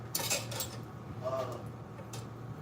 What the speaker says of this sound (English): I'm gonna stir that